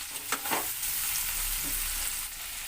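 Finely chopped garlic cloves frying in a pan for a chicken and vegetable dish, a steady close sizzle with a few brief stirring scrapes and no talk.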